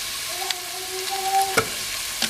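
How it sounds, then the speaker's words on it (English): Nigerian vegetable soup with crayfish, dry prawn and Maggi is stirred in a pot, a continuous hissy simmer with a steady tonal hum and a single sharp scrape of the spoon partway through. "Then I'm going to stir them as well, making sure that every ingredient I add inside is well mixed."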